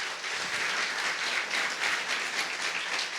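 Applause from a church congregation during a conference: dense, steady clapping from many hands throughout, moderately loud and fairly close, with no voices above it.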